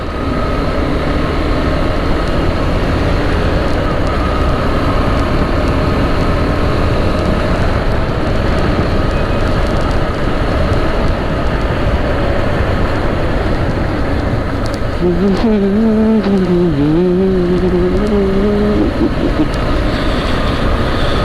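KTM 390 Adventure motorcycle ridden at high speed on Palm Beach Road, a loud constant roar of engine and wind rush with a brief rising and falling tone partway through.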